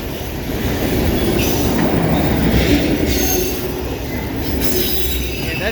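A CSX autorack freight train rolls past on the Old Main Line at Newport, steel wheels squealing in a sustained high whine over a continuous low rumble of cars close by.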